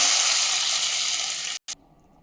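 Mustard seeds, dried red chillies and curry leaves sizzle loudly in hot oil for gongura dal, a dense steady hiss that cuts off abruptly, flares briefly once more, then falls quiet.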